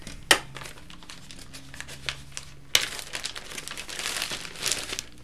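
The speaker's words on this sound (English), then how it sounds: "so I'm going to tear this so we can keep everything nice and accurate" Empty bag being torn and crumpled by hand: close crinkling and rustling, with sharp ripping bursts near the start and middle, then sustained crackling.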